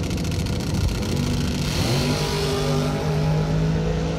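Drag race cars accelerating hard at a Christmas bash event, a loud continuous engine roar with rising pitch as they pull away, dense and sustained throughout with no talk.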